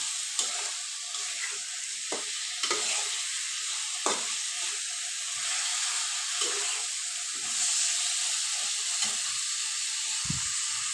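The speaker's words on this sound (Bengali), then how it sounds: "মাংসটাকে আমি ভালো করে কষিয়ে নিচ্ছি" Chicken bones with spices sizzle and fry steadily in a pan for a vegetable dish with cabbage, a constant close hiss broken by scattered scraping stirs, with no voices.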